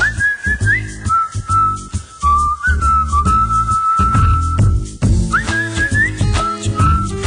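A relaxed, melodic whistled tune in an accounting software advert, loud and close over a rhythmic music bed, with short pauses between phrases.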